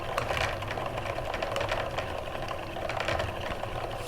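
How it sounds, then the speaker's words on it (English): Hand-cranked ball winder winding kinky reused yarn pulled from a seed-stitch knitted piece, giving a continuous soft whirring and rattling rhythm, close and fairly quiet, with no talking. "I'll wind it on there, and the ball winder does make it a bit easier"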